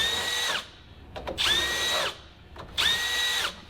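A power drill fitted with a chamfer bit deburrs a small burr on a fabricated metal part, whining loudly in three separate bursts with short pauses and faint clicks between them.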